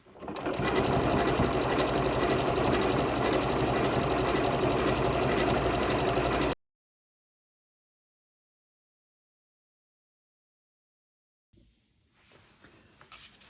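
A Janome sewing machine stitches fast and steadily for several seconds, then stops into silence before a faint low hum returns.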